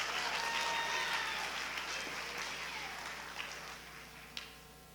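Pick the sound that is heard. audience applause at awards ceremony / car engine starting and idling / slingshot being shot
audience applause at awards ceremony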